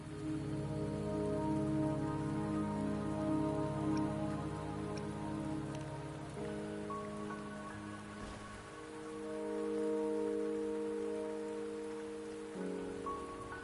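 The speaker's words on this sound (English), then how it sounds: "Don't worry, the rain won't last much longer." Rain falling in a video game, steady patter under sustained tonal music, continuous and moderately soft throughout, with no voices.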